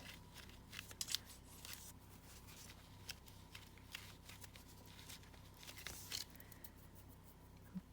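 Scissors snip through old paper labels in a book-page collage, making soft, irregular crisp cuts and rustles close by over a quiet background, no one talking.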